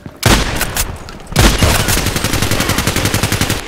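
Pump-action MP-133 shotgun blasts in the shooter game Contract Wars: two loud booming reports, the second followed by a fast run of rapid repeated gunfire close by.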